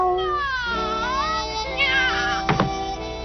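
A cat meows in a dramatized telling of The Adventures of Tom Sawyer, a drawn-out, wavering cry over steady background music, with a sharper burst near the end.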